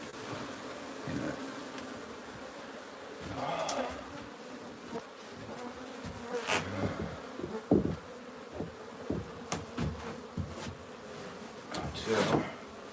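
Wild bees buzz steadily around a hive during a transfer, with handling knocks and brief rustles over the swarm's hum.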